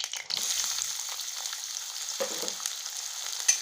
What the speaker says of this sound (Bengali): পেঁয়াজটা একটু ভালোভাবে লাল লাল করে ভেজে নেব